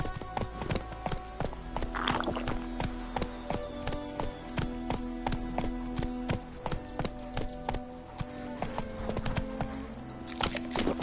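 Horse hooves gallop in a rapid, even drumming of clip-clop strikes in the game Witcher 3, running throughout over a low steady hum, with a few faint creaks and jingles mixed in.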